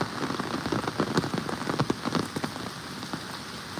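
First monsoon rain falling in the Konkan, a steady patter of drops on surfaces with scattered sharper splashes, close and continuous, no voices.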